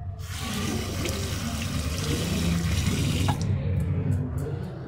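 Running tap water splashes steadily as something is washed underneath it in a home kitchen, a continuous loud rush that cuts off near the end, leaving a few faint drips.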